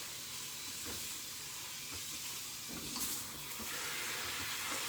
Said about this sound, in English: So I'm going to rinse them really well in the sink.